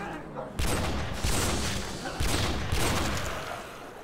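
Heavy sustained gunfire in Call of Duty: World at War Nazi Zombies on a custom Mario 64 map, loud booming bursts layered into a dense roar with repeated surges, rifle shots blending together close up.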